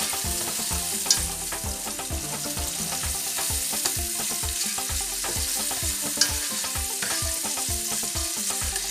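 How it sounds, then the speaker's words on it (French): Leeks and onions sweating in a pan for tripes à la florentine, a continuous sizzle under busy rhythmic scraping and stirring strokes, close and lively, no talk. "Alors on va faire suer nos poireaux et oignons."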